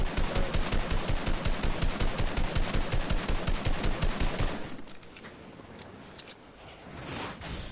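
Rapid automatic assault rifle fire in a video game, in long sustained bursts, loud and rhythmic, then stopping abruptly and leaving a quieter background with a few faint clicks.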